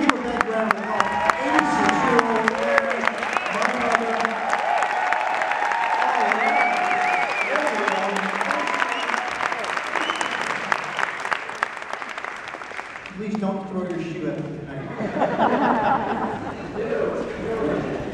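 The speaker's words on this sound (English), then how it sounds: "Everybody give a big round of applause." An audience at a Jesus Christ Superstar cast event breaks into loud, dense applause with cheers and crowd chatter mixed in; the clapping thins around the midpoint as voices and talk rise over the dwindling applause.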